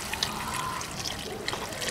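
Water pours into a pot of browned lamb paya, a steady close splashing and gurgling stream with a few drips and bubbles, and no talk.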